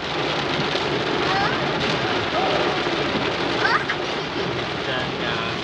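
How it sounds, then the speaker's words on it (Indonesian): Heavy rain pours down steadily and loudly, a dense unbroken wash with no pauses. "hujannya semakin deras"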